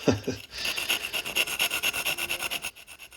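Steady rhythmic scraping of excess material against tile on an inside corner, a rough rasping stroke repeated quickly and evenly at close range, after a brief knock at the start.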